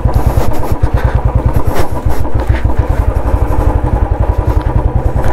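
A motorcycle climbs a steep hill road in the Kurumbalakotta hills of Wayanad, Kerala, with a loud, close engine thumping in a steady rapid rhythm throughout.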